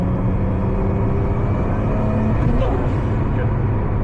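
A Chaser car engine accelerating at half throttle, a loud, steady, close rumbling drone with road and wind noise, holding at a constant level throughout.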